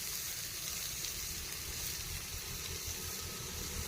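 Onions fry in a hot pan for a prawn curry, alongside crushed ginger, garlic and fennel, giving a steady, even sizzling hiss that runs unbroken throughout with no talking.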